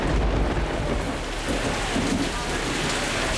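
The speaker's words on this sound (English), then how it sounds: "a massive storm has now swept in" Heavy rain pours down in a massive thunderstorm during a fishing trip in Cuba, a dense, loud, unbroken roar with deep rumbling thunder underneath and no voices.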